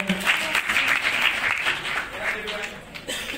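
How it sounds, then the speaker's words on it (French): Audience applause at the Nzonzing Awards ceremony, a dense, steady wash of many hands clapping, loud and continuous for several seconds before fading slightly at the end. "Maman Moseka va remettre le prix Révélation de l'année sous nos applaudissements"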